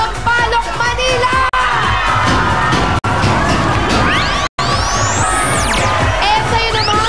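Studio audience from Sampaloc, Manila shouting and cheering while jumping, a loud, continuous mass of voices interrupted by brief cutouts, with sweeping whoosh effects layered over the crowd.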